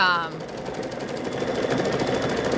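A sewing machine quilting a quilt held in a hoop, running in a fast, steady mechanical chatter that fills the whole stretch after a brief opening tone.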